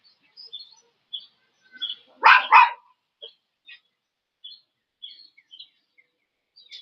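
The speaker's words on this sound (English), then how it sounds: "That's the neighbor's dog." A fuzzy terrier-type dog belonging to a neighbor gives a short burst of barks at a distance outdoors, with small birds chirping intermittently around it.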